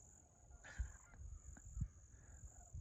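A flock of geese flying overhead, calling with scattered honks that sound faint and distant over quiet outdoor ambience at a winter campsite in a Florida state park.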